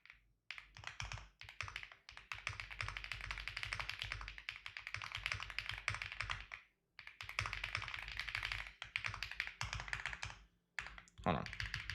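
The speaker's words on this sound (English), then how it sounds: "Let me kind of type this out here." Computer keyboard typing during live futures trading, a long stretch of rapid, close keystrokes with brief pauses and a few louder thunks, quiet overall.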